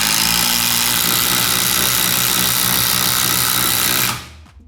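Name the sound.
DeWalt impact driver running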